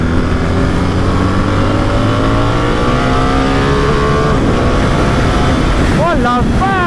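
A BMW R1300GS motorcycle accelerating hard on a road test, engine roaring steadily with rising pitch and quick upshifts near the end, loud and close against wind rush.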